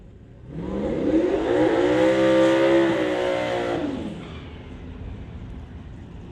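A 2000 Chevy Camaro drag car revs hard at an outlaw 275 drag race after its burnout, the engine note sweeping up, holding loud for a couple of seconds, then falling away as it backs up.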